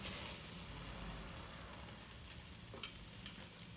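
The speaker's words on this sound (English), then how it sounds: "On charcoal you can do this. I want it to flame up. So that fat's burning." Beef picanha fat burning over charcoal, a steady crackling sizzle and hiss with broad noise filling the clip, plus a couple of sharper pops near the end, close and alone with no talking.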